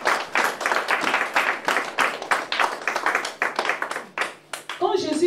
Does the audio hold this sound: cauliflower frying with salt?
no